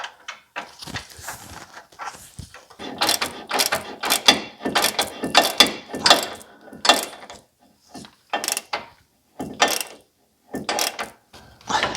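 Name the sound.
tightening cap on BMW electric power steering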